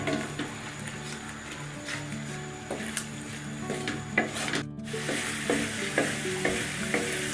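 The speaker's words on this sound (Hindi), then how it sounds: "और अभी देखें अच्छी तरह इसको फ्राई कर लेते हैं।" Mutton and spices stir-fried in a pan for biryani, a loud sizzle broken by repeated scraping and clanking spatula strokes, close and rhythmic, no talk.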